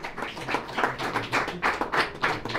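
Spectators at an amateur boxing event clap for a young fighter being introduced, a loud, close, uneven patter of hands with distinct individual claps rising and falling.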